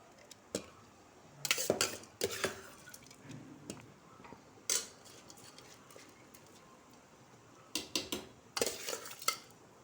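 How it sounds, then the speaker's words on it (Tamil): Basmati rice is poured into boiling water in a cooking pot for chicken biryani and stirred, with scattered bursts of scraping and metallic clinks between quieter simmering stretches. "இப்போ இந்த பாஸ்மதி ரைஸ் எடுத்து போட்டுக்கிறேன்."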